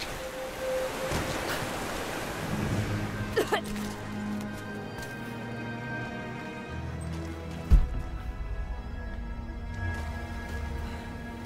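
Water rises with a steady rushing, surging wash in Rise of the Tomb Raider, a continuous broad roar with low rumbling tones and an occasional thud.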